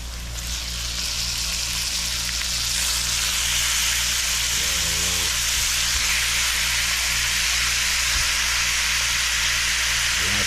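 Shrimp frying in a curry-seasoned pan for a baked chicken curry shrimp cook-up, giving a loud, steady sizzle and hiss that runs unbroken throughout, with a brief stir partway through and no talking.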